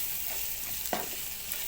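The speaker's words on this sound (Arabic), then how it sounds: "بالثوم المفروم، نديله بقى تشويحه حلوه" Minced garlic sizzles in a pan with Alexandrian sausage, a quiet steady frying hiss with a single brief stir or scrape near the middle.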